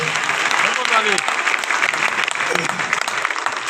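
A crowd at a Hindi comedy poetry gathering applauds loudly and steadily, near and continuous, while a voice talks over it.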